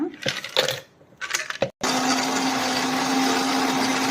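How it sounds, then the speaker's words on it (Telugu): Ice cubes clatter into a large glass for a protein shake in a few sharp, close knocks. A loud, steady whirring blender-like drone then takes over and runs to the end. "ఐస్ క్యూబ్స్ వేస్తున్నా"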